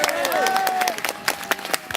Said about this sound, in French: je vais l'applaudir plus fort encore, hein,